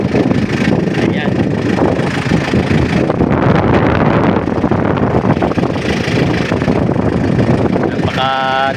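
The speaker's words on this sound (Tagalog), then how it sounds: "Gamit po natin itong traktora." A farm tractor runs in a field with a loud, rough, continuous engine rumble mixed with wind buffeting, and a voice speaks briefly near the end.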